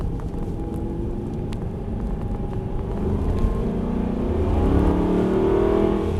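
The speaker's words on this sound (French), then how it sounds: "Et on accélère en sortie de virage" An Aston Martin Vantage V8 accelerates out of a corner on a track, its engine note rising in a loud, close, swelling roar with no talking over it.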